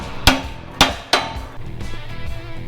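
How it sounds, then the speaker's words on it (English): Hammer blows strike pressed metal farm equipment during a welding repair, three sharp ringing clangs spaced roughly half a second apart, close and loud, followed by faint shop noise. "now we're gonna get a hammer while it's pressed tight"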